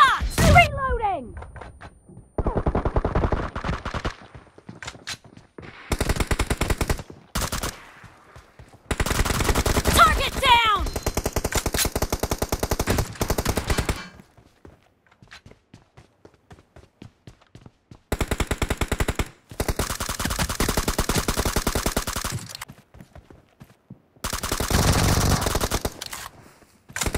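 Gunfire in the video game BGMI during a team deathmatch comes as repeated loud automatic bursts separated by short silences, with game voice callouts heard between volleys.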